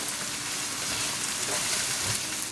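Chopped onion fries with garlic in a pan, giving a steady, even sizzle that crackles like light rain and holds at the same level throughout.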